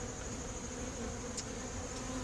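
Carniolan honeybees buzzing around a horizontal hive in the sun during a late-season inspection, a continuous close, soft hum of many wings with a couple of individual bees droning past near the ear.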